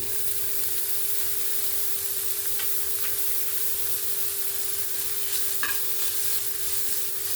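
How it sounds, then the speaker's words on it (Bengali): Chopped onion frying with curry leaves in a pan makes a soft, steady sizzle over a faint constant hum, with a few light stirring clicks. "পেঁয়াজ কুচিটা একটু সামান্য হালকা একটু ভেজে নেব"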